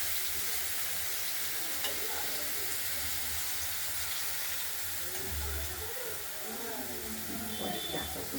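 Chili, bay leaf, cumin and black cumin crackle in hot oil with a dense, continuous hiss and sizzle that holds at an even level throughout, and a faint voice is heard behind it.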